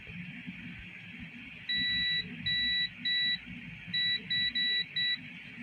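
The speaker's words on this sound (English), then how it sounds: "So we're just listening for the beeps." A multimeter continuity tester beeps in several short, high electronic tones of varying length, some in quick succession, over faint background noise.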